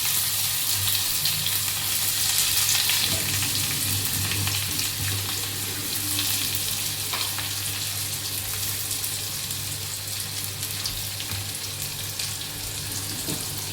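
Chopped onion sizzles and fries steadily in a small amount of oil with mustard seeds and cumin, a continuous close hiss with occasional stirring scrapes while making kanda poha in a home kitchen.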